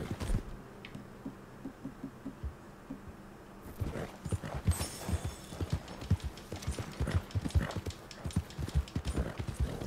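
Horse hooves clip-clop in a quick, steady rhythm in Red Dead Redemption 2, growing busier and louder after a few seconds, with a faint ambient hum underneath.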